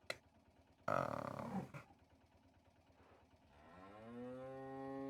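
In the video game Martha Is Dead, a cow gives a long, rising, drawn-out moo near the end, after a brief loud burst of noise and some quieter sounds.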